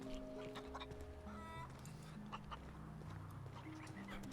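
Chickens cluck in The Outer Worlds video game, their short calls scattered over a steady bed of game ambience and music tones, moderately close and continuous.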